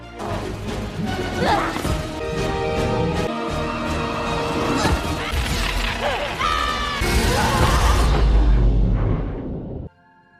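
A doll breaks apart during a frantic chase in an animated film, with repeated crashes, thwacks and shattering hits over busy music and whooshes, building to a loud burst before cutting to silence.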